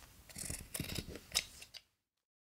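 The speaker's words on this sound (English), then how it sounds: "Then I can take scissors and cut my fabric." Scissors snip through fabric in a quick run of close, crisp cuts over about two seconds, then stop, with nobody talking.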